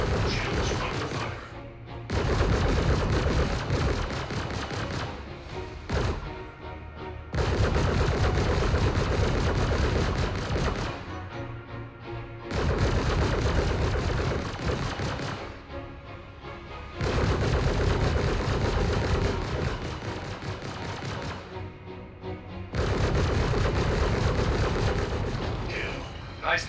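Spaceship weapons fire strikes the shields in the video game Star Citizen, loud dense bursts of gunfire-like impacts repeating in volleys of several seconds, separated by short lulls.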